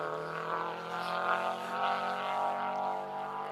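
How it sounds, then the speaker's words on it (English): A Subaru GC8 Impreza rally car with a flat-four boxer engine burbles steadily at a distance on a Yorkshire rally stage, a droning, uneven engine note that holds without pause. "Unmistakable burble of the flat 4 boxer engined Impreza"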